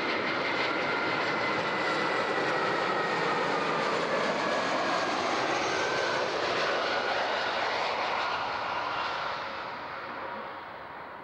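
An airliner landing on runway 14 at Zurich airport, its engine roar loud and close, a broad steady whine that swells and then fades slightly as it passes.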